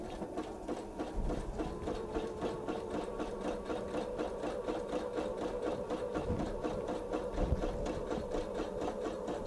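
Sewing machine running steadily while stitching belting on a tote bag, with an appliqué foot following a center line; a fast, even needle rhythm continues close up throughout without pause.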